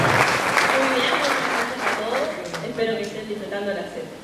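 Audience applause fills the room at an Argentine provincial beer festival anniversary gala dinner, a steady wash of clapping with voices talking over it throughout.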